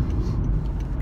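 A Honda Fit car drives onto an interstate, its engine and road noise forming a steady, loud, close rumble throughout.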